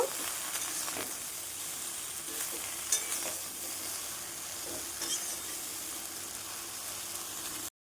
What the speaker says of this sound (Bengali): সামান্য অল্প পরিমাণে নুন দিয়ে নেব নুনটা দেওয়ার পরে কিন্তু সামলাটা অল্প হয়ে যাবে জল বেরিয়ে একটু নাড়িয়ে চাড়িয়ে নেব